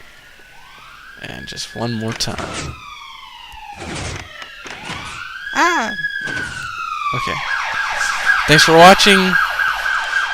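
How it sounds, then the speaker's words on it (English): A very loud fire truck siren wails just outside a house, its rising and falling tones sweeping repeatedly and growing stronger toward the end, while someone speaks over it. "there's a very loud fire truck right outside my house"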